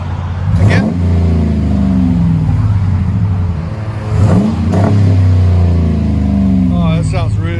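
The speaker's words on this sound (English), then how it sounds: "the MAGNAFLOW gives it a really just deep tone" A 2015 RAM 1500 5.7L HEMI V8 pickup revs repeatedly through a Magnaflow dual exhaust with a deep, throaty rumble, several strong blips rising and falling, loud and close.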